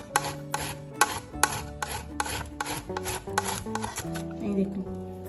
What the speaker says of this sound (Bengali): আমগুলোকে আমি গ্রেট করে নেব, তার জন্য নিয়ে নিলাম একটা গ্রেটার।